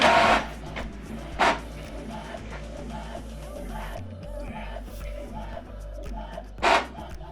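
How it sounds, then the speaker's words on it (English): An Epson printer runs an alignment pattern page, with a steady mechanical whir and motor hum broken by a few louder clunks of the paper feed and print head. "So now it's printing the page 2."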